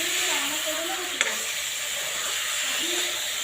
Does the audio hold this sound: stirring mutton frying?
yes